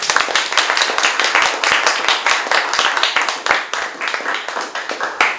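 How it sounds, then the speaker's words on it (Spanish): A lecture audience at a university science talk breaks into sustained applause, dense clapping from many hands at close range, steady for several seconds. "Pues vamos a darle un aplauso."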